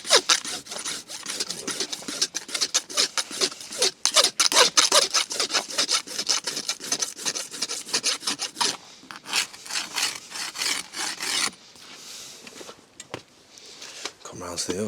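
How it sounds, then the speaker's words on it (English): A farrier's rasp files a horse hoof in quick, rhythmic close-up strokes, steady at first, then in sparser passes near the end. "Then we just give it a nice tickle over with a rasp"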